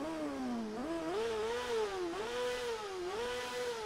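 Honda motorcycle engine in TT: Isle of Man revving up and down repeatedly, pitch rising and dipping in waves with a buzzy, harmonic-rich whine at steady moderate volume.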